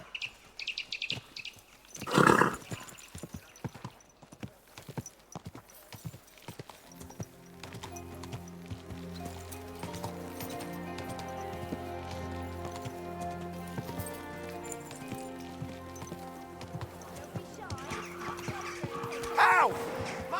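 Horse hooves clip-clop at a walking pace in Kingdom Come: Deliverance II, amid street chatter and soft background music, with louder bursts of movement at the start and end.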